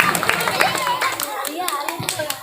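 Scattered hand clapping rings out for mosque youth and children at a Maulid roadshow gathering, with uneven claps mixed in among children's voices and chatter nearby.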